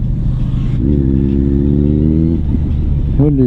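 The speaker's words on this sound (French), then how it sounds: "Petite Porsche Panamera." A Porsche Panamera drives past on a city street, its engine a steady, loud, close rumble that rises in pitch midway and climbs again near the end, over constant road noise, with no voices.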